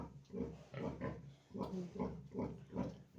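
Piglets on a farm grunt and squeal in repeated rhythmic bursts during tail docking, fairly close and moderately loud, with no talk over them.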